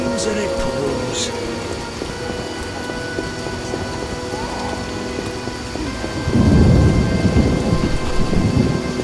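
Rain falls steadily in The Witcher Enhanced Edition game world, with a heavy, loud rumble of thunder rolling in near the end over the constant patter.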